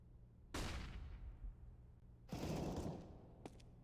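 Gunfire in a Counter-Strike match, two quiet distant bursts of shots with decaying tails about two seconds apart, followed by a brief faint crack.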